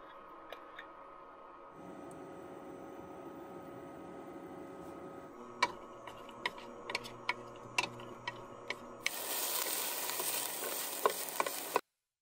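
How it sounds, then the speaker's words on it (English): Onions frying in avocado oil over medium heat in a pan, a steady soft sizzle running throughout with scattered sharp ticks and clicks of stirring, the hiss brightening and growing louder toward the end. "Put it on to medium heat, and we're gonna do half the onions with oil."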